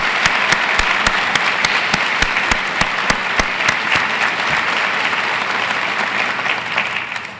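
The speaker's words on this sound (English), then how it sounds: "Let's recognize these outstanding individuals with a hearty round of applause." A university audience at a State of the University address gives a hearty round of applause, a dense, steady wash of clapping with a few sharp, crisp claps standing out, sustained for several seconds before tapering slightly.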